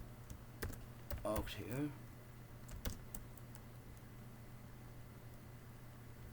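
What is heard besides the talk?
typing code on a computer keyboard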